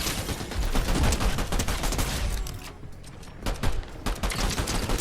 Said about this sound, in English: He's gonna shoot at the Christmas tree guy